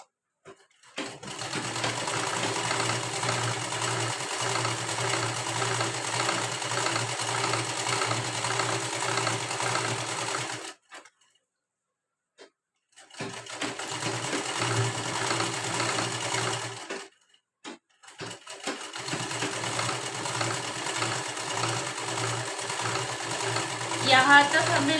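A sewing machine runs in three long bursts with brief pauses between them, stitching a seam on an unlined princess-cut blouse; steady, close and loud throughout.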